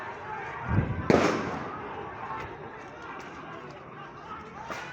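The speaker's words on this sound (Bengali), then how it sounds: "পুলিশ টিয়ারসেল এবং গুলি নিক্ষেপ করছে" Police tear gas shells and gunfire burst out in sharp loud bangs, one after another, at a protest outside the district court in Kushtia, followed by a continuing background din of crowd noise and movement.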